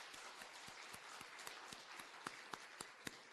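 A church congregation at an afternoon service applauding together in rhythmic unison claps, steady and even, heard from a distance in a large room.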